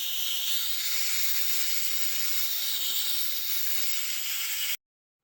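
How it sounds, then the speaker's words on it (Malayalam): A pressure cooker lets off steam in a steady, loud, continuous hiss that holds at an even level for several seconds and then cuts off abruptly. "കുക്കറിൽ പ്രഷർ പോയതിന് ശേഷം അടപ്പ് തുറന്ന് നോക്കാം"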